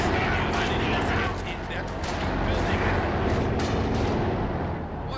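Mortars firing in the Company of Heroes 2 strategy game: a dense, loud wash of rumbling booms and battlefield bursts that carries on without a break through the whole stretch.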